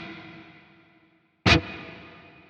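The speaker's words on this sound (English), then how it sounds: "So the reverb will sound like this." A guitar note through the reverb effect of a Quad Cortex processor: a sudden bright strike, then a smooth lingering wash that fades slowly with a thin sustained ring.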